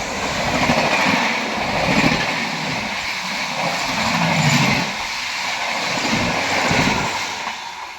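A passenger train on the Howrah–New Delhi route rolls past Dawa station while overtaking the Tejas Rajdhani, giving a steady, loud rumble and rushing wheel noise with faint rail clatter, continuous throughout and no voices.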